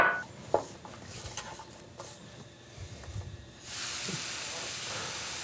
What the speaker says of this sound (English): 2 pears that I've peeled and diced rather smallly. We're just going to let these cook for a couple minutes